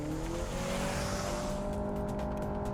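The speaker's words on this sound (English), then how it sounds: "The gas engine should fire up at some point." The gas engine of a 2026 Honda CR-V Trailsport two-motor hybrid fires up while driving in sport mode, a rising engine drone with a climbing tone heard steadily from inside the cabin.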